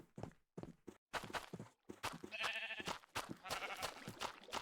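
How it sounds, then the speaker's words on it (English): Two sheep bleating in Minecraft, with several wavering bleats rising over soft block footsteps and thunks, close and clear with short silences between the early steps. "Did I get 2 friendly sheep? I got 2 friendly sheep."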